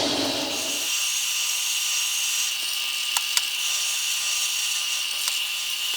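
A drill boring a 3/8 inch guide hole in metal for a countersink, a steady high-pitched whine holding continuously up close, with a few faint clicks partway through.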